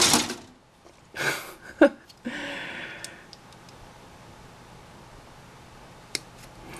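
A Godhand SPN-120 hobby nipper snips plastic, giving a few sharp close clicks and short bursts early on, then a faint isolated snap later against quiet background.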